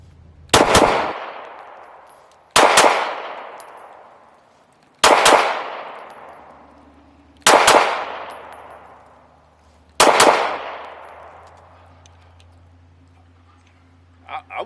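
Five loud, sharp shots from a Caracal Enhanced F pistol fitted with quick sight, fired singly at a steady pace about two and a half seconds apart, each with a ringing decay.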